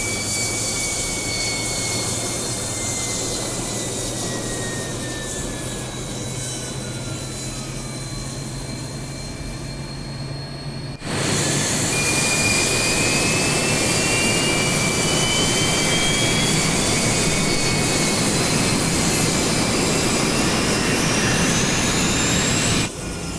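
Steady roar of a Northrop T-38 Talon jet engine heard from inside the cockpit in Microsoft Flight Simulator 2020, loud and continuous, growing louder midway, with thin high whines sliding in pitch above the rumble.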